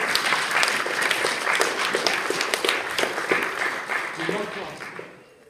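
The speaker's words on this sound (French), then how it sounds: "On peut l'applaudir encore." An audience claps warmly in a continuous burst of dense applause that fades out at the end, with a voice speaking over it.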